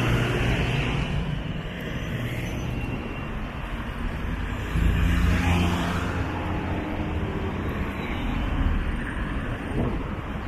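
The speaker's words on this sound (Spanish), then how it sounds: "Aquí siempre hay bastante tráfico." Heavy traffic rolls along a busy city boulevard in El Salvador, a dense, continuous roar of engines and tires with swelling passes and no voices.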